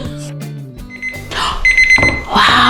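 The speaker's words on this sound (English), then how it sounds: "Is that the alarm?" Electronic alarm beeping to signal homemade gluten-free vegan cassava chocolate chip cookies are done, a run of bright repeated tones starting mid-clip, loud and close, after some talk at the start.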